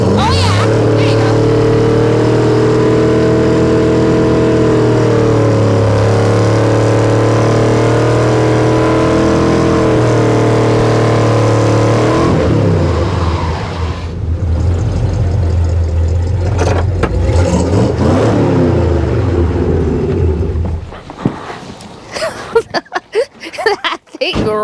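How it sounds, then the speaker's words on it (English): A classic car's engine roars and revs hard while doing donuts on ice in winter, a loud, close, sustained drone with rising and falling pitch that fades toward the end as people talk over it. "That thing rips. That is a donut machine."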